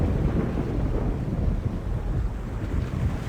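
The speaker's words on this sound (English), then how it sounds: "It is a chaos storm. A strong storm caught in a magical vortex, drawn to strong magic like bees to honey." A magical chaos storm in the 1999 adventure game The Longest Journey rolls out a deep, continuous rumble of thunder and wind, heavy and dark in tone, with no voices over it.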